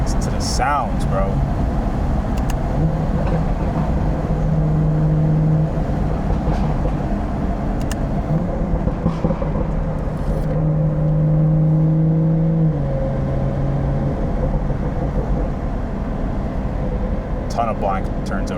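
A car with a BMW B58 engine is heard while driving, its engine droning under a steady road rush and swelling in pitch through two separate acceleration pulls.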